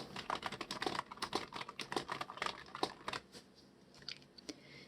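Fast, crisp clicks of a computer keyboard come up close as a chart title is typed. The keystrokes run in an uneven flurry, then thin out into a few scattered taps near the end.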